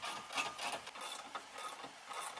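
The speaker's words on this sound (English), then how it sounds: "tightening it using a 5mm Allen key and a 17mm wrench" Steady ratcheting clicks and metallic rubbing as a 5mm Allen key and a 17mm wrench tighten the nut on a sway bar end link of a Honda Civic, close up and continuous, with no talk.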